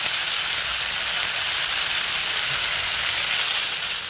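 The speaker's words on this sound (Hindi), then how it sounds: "5 मिनट तक मैं इसको ऐसे ही कढ़ाई के अंदर पड़े रहने दूंगी टमाटर को" Cherry tomatoes cook in a kadhai with a dense, constant hissing sizzle like steam escaping, steady and fairly loud throughout, no talking.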